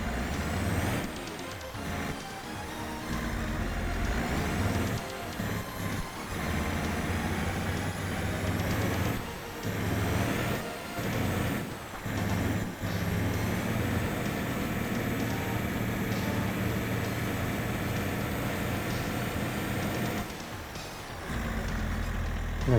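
A vehicle drives with a mower and trailer in Farming Simulator 22, giving a steady loud engine drone with a sustained tonal whine that persists for the whole stretch, broken by a few brief dips, with no talking.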